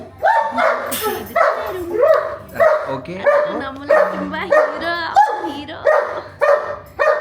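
Three dogs bark repeatedly in short, loud bursts at a home grooming session, the barks overlapping in an uneven, steady rhythm across the whole stretch, with a cat also present.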